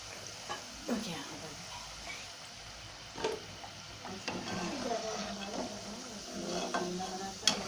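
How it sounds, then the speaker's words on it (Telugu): Homemade biscuits deep-fry in hot oil until light brown, a close, steady bubbling sizzle broken by a few scraping stirs and clinks from the pan. "లైట్ బ్రౌన్ కలర్ వచ్చే వరకు వేయించుకొని తీసేసుకోవాలండి."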